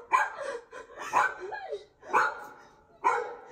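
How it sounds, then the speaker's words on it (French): A dog barking in four loud, close bursts with a whimpering edge, coming in short spaced volleys during a tense encounter in which the dog attacked a woman. "Mais il a qui ce putain de chien?"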